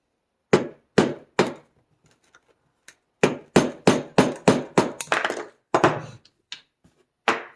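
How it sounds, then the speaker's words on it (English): Hammer tapping the flange of a Hitachi NV45AB2 roofing nailer into place: sharp, close knocks, three spaced hits, then a quicker run of about a dozen taps and a few more spread-out strikes. "Just kind of tapping it into place."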